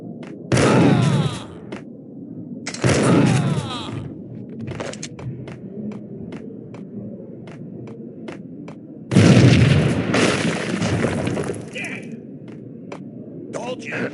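Loud booming blasts from the Max Payne Mobile video game, two heavy explosions close together early on and a third, bigger one later, with low rumbling and game ambience between them.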